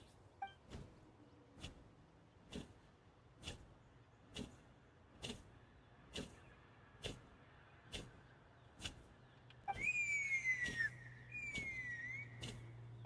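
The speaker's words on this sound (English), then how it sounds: "That sounded like a whistle." A rising, warbling whistle from the video game Genshin Impact cuts in near the end over a slow series of evenly spaced soft thumps and a low hum, bright and fairly clear, with no talking.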